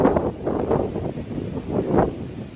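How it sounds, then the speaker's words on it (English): Wind gusting across open moorland beside a high churchyard, a broad rushing roar that swells and eases in waves, steady and fairly loud, buffeting the microphone with no talk. "The old wind's getting up."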